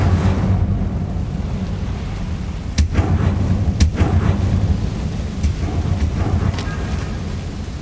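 The Incendio fire spell is cast in Hogwarts Legacy, a loud roaring burst with sharp cracks layered over a dense rumbling, crackling bed of game sound.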